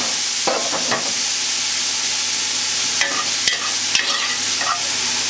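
Chopped tomato sauce ingredients sizzle steadily in a hot pot over an intense flame, a continuous close frying hiss broken by a few sharp stirring clanks and scrapes.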